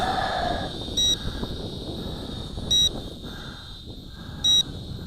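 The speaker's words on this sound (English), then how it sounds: "Comes with a beep." An FQ777 918C camera drone in headless mode gives three short high-pitched electronic beeps, evenly spaced, over steady outdoor wind noise and a faint whine.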